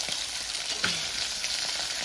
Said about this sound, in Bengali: এদিকে মাছগুলো ভাজা করছি।